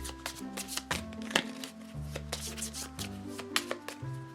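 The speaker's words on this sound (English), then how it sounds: "let me just shuffle the rest of the AI deck" Playing cards riffled and bridged during a tabletop board game, a run of crisp close papery flutters and snaps repeating in short bursts over a steady background of soft music.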